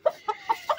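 Chicken clucking at a small home zoo: four or five short, close clucks in quick uneven rhythm, fairly loud, with no talk over them.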